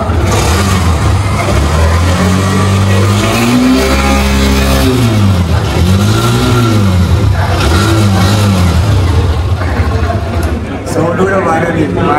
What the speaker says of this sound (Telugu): మనోడైతే బైక్ టెస్ట్ చేస్తున్నాడు